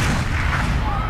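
A gunshot in a scene from the telenovela A Usurpadora, fired at a woman during a public event: a loud, dense blast with rumbling low end that fills the short moment, with no voices.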